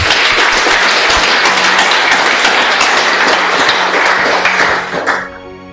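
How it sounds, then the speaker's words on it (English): Congregation applauding during an ordination Mass in church, loud, dense and sustained clapping that fades out abruptly near the end. "Brother Raphael and Brother Hugh, let us give them a round of applause."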